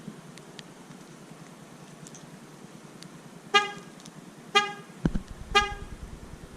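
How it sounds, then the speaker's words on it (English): Three short, loud horn beeps from a 2021 Chevrolet Trailblazer, triggered by the key fob panic button, ring out in a steady rhythm over quiet outdoor background, close to the microphone. "The horn will beep 3 times."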